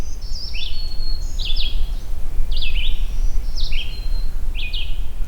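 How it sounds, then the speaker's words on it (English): A distant magnolia warbler sings on an overcast morning, giving short, sweet slurred phrases about once a second, clear but not close, over a steady low background hum. "It's a distant magnolia warbler too."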